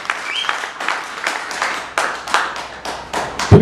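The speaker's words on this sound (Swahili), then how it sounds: "Tupigie Bwana makofi ya shangwe." A church congregation at a thanksgiving service claps together, a lively run of overlapping hand claps in loose bursts, close and moderately loud, with a brief thump at the end.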